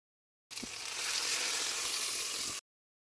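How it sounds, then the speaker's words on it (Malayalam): Karimeen (pearl spot fish) frying in a pan sizzles with a bright, steady hiss for about two seconds, opening with a brief pop and then cutting off abruptly. "ഫിഷ് ഏകദേശം ഒരു 3/4 ഭാഗം ഫ്രൈ ആയിട്ടുണ്ട്."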